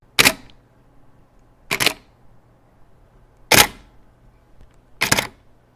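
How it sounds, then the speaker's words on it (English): Four soft, quick Canon DSLR shutter clicks in silent shooting mode, evenly spaced about every one and a half seconds, close by in an otherwise quiet room. "compare the silent shooting modes on these two cameras to see which one has the"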